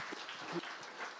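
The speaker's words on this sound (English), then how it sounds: "Round of applause for this thought first." Brief audience applause at a media company's anniversary event, a soft spatter of clapping lasting about a second, with a faint voice murmuring underneath.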